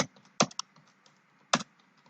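Computer keyboard typing C# code, sparse soft key taps with two sharp, loud clusters of clacks, close and alone with no voice.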